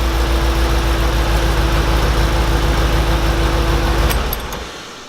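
An LS-swapped Jeep Wrangler engine idles loud and close after a push button start, a steady low rumble with a constant hum before it is switched off and the sound drops away.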